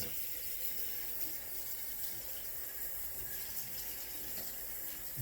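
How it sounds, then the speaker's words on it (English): Steady running water from a tap while a shaved head is rinsed of hair and shaving cream after a wet shave with a Microtouch Titanium head shaver, a constant close hiss with no voices. "All right, so now I'm going ready to rinse."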